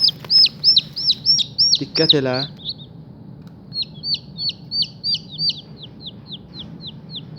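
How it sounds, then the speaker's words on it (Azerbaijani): Newly hatched chicks peep in quick, shrill bursts, a near and rapid string of calls that pauses briefly around a lower, rougher call before resuming. A voice speaks briefly. "Bir cücəni götürürük. Qabağımda onsuz da 2 cücə var."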